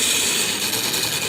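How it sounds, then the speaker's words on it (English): Grinder wheel sharpening an old plane iron held at 30 degrees with the wheel turning into the tool, a steady bright grinding hiss with rough scraping texture, continuous and close. "If you do have a choice on a grinder, and you can get a low-speed grinder, that would be better than a high-speed grinder"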